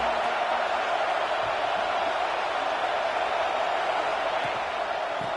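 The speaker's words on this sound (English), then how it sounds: "This crowd ready to make its presence known." Dense, steady roar of a large football stadium crowd at an Oregon vs Clemson game, a constant loud wash of massed voices with no clear breaks.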